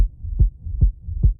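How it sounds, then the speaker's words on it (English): Deep heartbeat-like throbbing from a music video, three evenly spaced low thumps under a sustained hum, loud and close with nothing else heard. "it's like a heartbeat in a way though"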